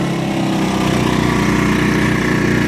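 A Powerhorse 2000 watt inverter generator running on economy throttle, a steady loud close engine hum with an even buzzing drone and no break.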